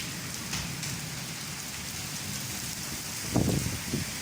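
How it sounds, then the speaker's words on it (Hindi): Steady heavy rain hisses continuously in a village, with a couple of louder low thumps near the end. "बहुत ज़्यादा बारिश हो रही है।"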